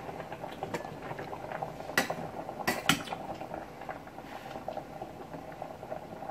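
Pasta bubbles in water in a pot on a home stove, a quiet steady simmer broken by a few sharp clinks of metal pans and utensils, with no one speaking.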